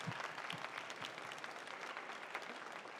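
A fan convention audience applauds, a dense steady patter of many hands clapping at once, faint and somewhat distant, continuing without a break and with no speech over it.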